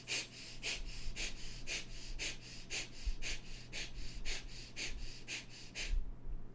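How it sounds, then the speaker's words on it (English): Quick, short, gentle breaths drawn through both nostrils into the belly repeat in a steady fast rhythm, about two per second, close and audible over a low hum, ending abruptly. "start breathing quick, short, gentle breath from both the nostrils into the belly"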